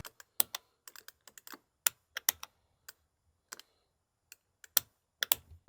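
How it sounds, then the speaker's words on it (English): Clicky arcade buttons on an iiRcade home arcade machine are pressed in quick, irregular taps, each a sharp, close, keyboard-like click, with short pauses between flurries. "the buttons are not Sanwa, but they do kind of have what Jordan and I were talking about, almost like a keyboard clicky to it"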